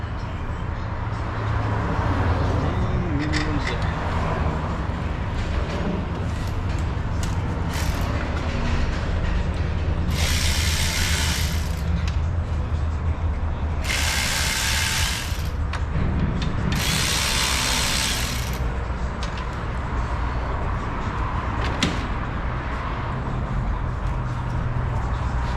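A running 2008 Subaru 3.0L engine with a worn timing chain makes a steady mechanical clatter and whir up close, with three short hissing bursts over the drone partway through.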